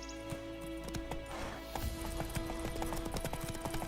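Hooves of the horse Roach galloping in The Witcher 3, a steady, rapid clip-clop drumming under game ambience and music, fairly close and continuous.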